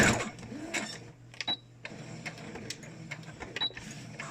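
A home sewing machine stitching a homemade fabric medical mask, running in short mechanical bursts with pauses between, close and fairly quiet, with the whirring stitch sound repeating as the seam is sewn twice.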